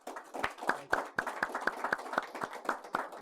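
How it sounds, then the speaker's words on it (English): A small audience at the Innovation Summit 2023 gives a round of applause for a guest, Mr. Crisp: a steady run of distinct, evenly spaced claps at moderate volume, with no voices over them. "I'd like to give a warm round of applause for Mr. Crisp for joining us here today."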